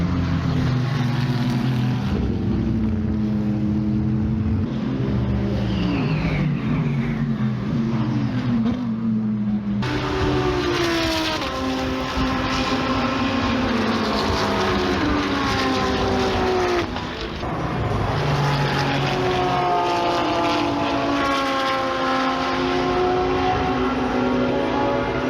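GT3 race cars circuit Spa in the rain during the 24 Hours of Spa centenary, engines droning past with rising and falling pitch, a steady loud roar with shifting tones and a sharp change partway through.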